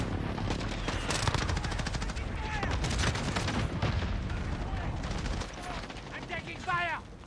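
Dense, rapid automatic gunfire and shots in a Call of Duty match rattle almost continuously, loud and close, with brief lulls and electronic game effects near the end.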